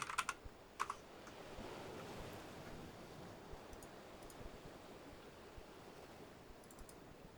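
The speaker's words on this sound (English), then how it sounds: "You get to hear the keyboard again." Scattered keyboard key clicks, a quick cluster at the start and a few sparse taps later, over a soft continuous background hiss.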